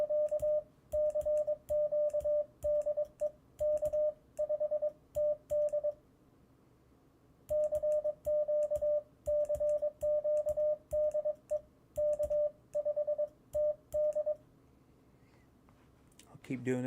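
Morse code CW signals on the 160m amateur band: a steady single-pitch tone keyed in rapid dots and dashes, in two long runs separated by a short pause, over a faint radio hiss.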